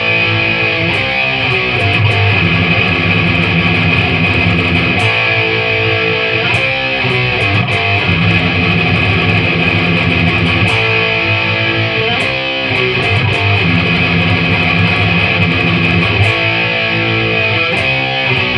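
Heavily distorted electric guitars play the solo and rhythm parts of a song together, the rhythm part filling bars with 16th-note palm-muted open low-string chugs, loud and dense throughout.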